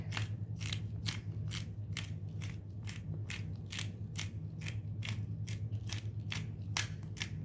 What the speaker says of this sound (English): And then just pepper on the other side. I feel like pepper is the big thing. So I've just got a grinder here.